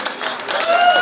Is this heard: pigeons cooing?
no